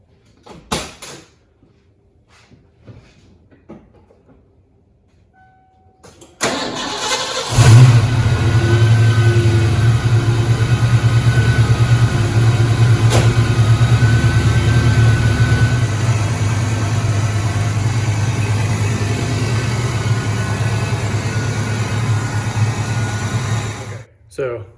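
A Fox Body Mustang fitted with a new MSD coil cranks and fires after a quiet stretch, then settles into a loud, steady rumbling idle with rises in revs, close by and continuous to the end; a voice is heard briefly before it starts.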